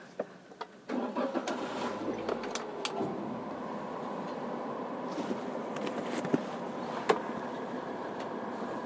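A rental car's engine cranks and catches after a few light clicks, then settles into a steady close idle inside the cabin, with small knocks and taps over the hum.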